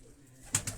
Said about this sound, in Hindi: ये दोस्तों एक और कबूतर आप नादर भाई के हाथ में आप देख रहे हैं